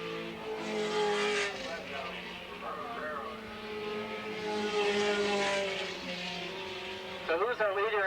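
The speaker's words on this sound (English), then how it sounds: "Jared Law, Swiss Mesa, California, went by and he's going very fast in his 1982 Lola" A 1982 Lola Sports 2000 race car tears past at speed during an SCCA race at Willow Springs International Raceway. Its engine note climbs and sweeps, loud and close, beneath continuous commentator talk.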